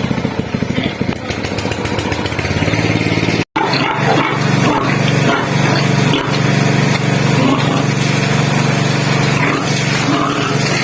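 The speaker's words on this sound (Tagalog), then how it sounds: "Napandar lang natin yung makina para malinisan itong kulungan." A small engine runs loud and steady for cleaning out a pig pen, with a brief cutout partway through, close by, while someone talks over the droning.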